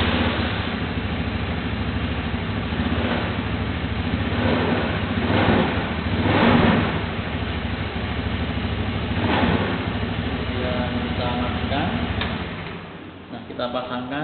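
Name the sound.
car engine warming up and revving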